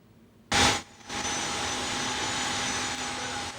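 A jet airliner arriving at Brazzaville airport whines and roars steadily just after a short, loud burst of noise, with a high engine tone running continuously underneath.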